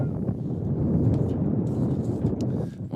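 Strong wind buffets the microphone at an outdoor high school baseball game in Louisville, a steady loud rumble with gusting swells throughout.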